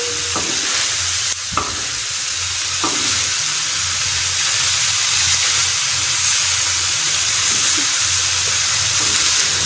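Minced keema fries loudly on a hot tawa over a medium flame, a steady close sizzle and hiss with a few sharp scraping stirs near the start and no voices.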